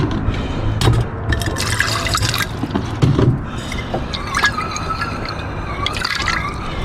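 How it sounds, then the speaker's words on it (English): Water runs and splashes while a container is rinsed out during jewellery refining, with gurgling trickles, drips and a few clinks of the vessel, fairly close and without talk. "So I'll just give this a rinse out now"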